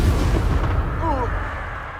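A Bombarda blasting spell explodes in Hogwarts Legacy, heard as a dense, loud rumbling boom that stays heavy for the full two seconds, with a brief tonal creature or voice sound partway through over the battle noise.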